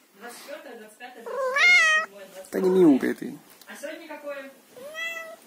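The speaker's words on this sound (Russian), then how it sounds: "Да не мяукай ты." A cat meows repeatedly near the microphone in a home during wartime shelling, its rising and falling cries alternating with a voice counting aloud.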